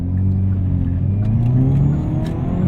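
A 2020 Hyundai Veloster N accelerates hard from inside the cabin, its engine droning loudly with the pitch climbing steadily as revs build, and a few faint crackles on top.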